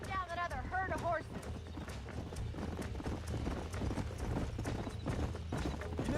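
Rapid hoofbeats of horses galloping in Red Dead Redemption, a steady clip-clop rhythm, with a horse whinnying near the start, fairly close and loud.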